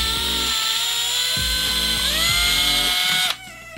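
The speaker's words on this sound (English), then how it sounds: "that way I can drill through both" A power drill whirs steadily and loudly, its pitch dipping and rising in short bursts as it bites through a plastic toy casing, then cuts off near the end.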